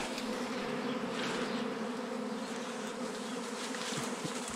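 A honeybee swarm being caught from a tree in May drones steadily throughout, a dense continuous buzz of many bees close by with no talking.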